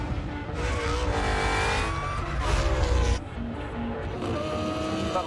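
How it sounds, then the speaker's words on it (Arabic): A four-wheel-drive supercar built for racetracks is driven hard on a small karting track, its engine roaring continuously with tire squeal and a brief drop in loudness partway through. "كيف بدي اسوق سيارة سوبر كار معمولة للحلبات، سوقها على حلبة كارتينج"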